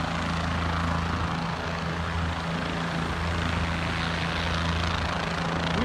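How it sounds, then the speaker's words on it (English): Jet Ranger helicopter from Lifesaver at an ATV crash rescue scene, its steady rotor and turbine roar loud and close, a constant drone with low rhythmic thumping throughout. "that's the roar of that Jet Ranger helicopter that we see in front of us"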